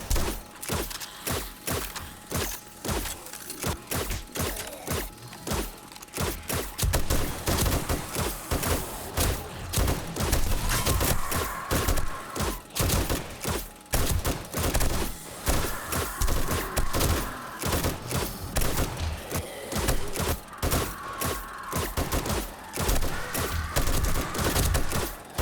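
An M60 machine gun fires in the zombie survival game 7 Days to Die, long sustained bursts of rapid, heavy shots hammering on almost without pause, loud and close, with dull impacts mixed in.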